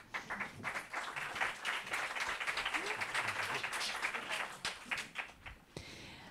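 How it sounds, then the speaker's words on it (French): An audience at a panel discussion event applauds warmly for several seconds, the clapping thinning out toward the end, with some voices mixed in. "On peut les applaudir"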